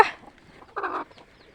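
Two short free-range hen clucks close by, a sharp one at the start and a fuller one a moment later, with quiet in between.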